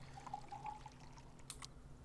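Water pours steadily as bottles are filled in the survival video game Desolate, a faint thin trickle with a brief clink near the end.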